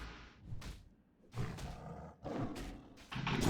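Feral druid's Savage Roar ability from World of Warcraft: Wrath of the Lich King Classic, a series of loud roaring bursts with game effects between them, rising toward the end, with no talk.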